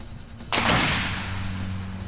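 A black 175 lb compound crossbow fires: one sharp, loud snap in a quiet setting that fades into a brief ringing decay.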